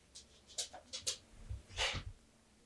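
A dog moves about close to the camera indoors, giving a few soft scuffs, sniffs and breathy bursts with one louder rustle near the end, no talking.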